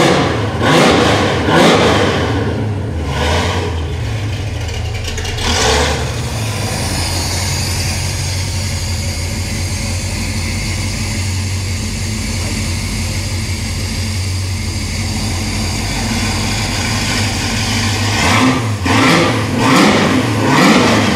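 A customized Ford Maverick engine rumbles at idle then revs up in a couple of bursts, settles into a steady growl, and revs again near the end, loud and close.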